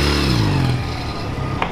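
A motorcycle idling at a McDonald's drive-through in Los Angeles, its close, steady engine throb briefly louder at the start before settling into an even rumble.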